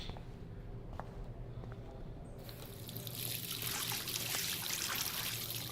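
Water trickles and pours in the game Life Is Strange, starting faint and swelling into a steadier, louder splashing stream partway through.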